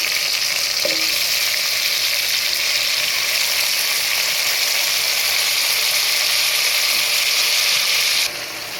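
Curry leaves sizzle loudly in hot oil in a home kitchen pan, a dense, steady crackling hiss running throughout and briefly dropping off at the end.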